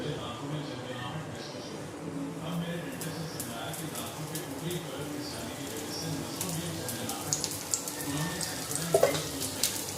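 Water sprinkled over taro leaf rolls (alu vadi) sitting in oil in a pan over a low gas flame gives a soft, steady splashing sizzle, with faint speech at moments and a brief brighter splash near the end.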